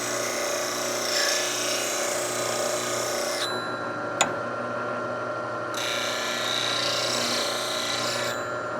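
Skew chisel bevel held against a spinning bench grinder wheel, a steady, continuous whirring hum with a brighter gritty hiss in two stretches and a brief sharp tick midway.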